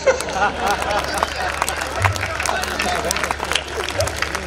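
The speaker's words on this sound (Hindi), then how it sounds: "और अब आपकी तालियां उठेंगी" An audience at a Hindi comedy poetry show by Sampat Saran fills the space with dense, continuous applause, a thick sustained wash of clapping and crowd noise.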